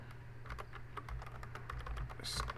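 Typing on a computer keyboard while renaming an item in Ansys Workbench, a quick run of light, close key clicks in an uneven rhythm over a quiet room hum, with no voices.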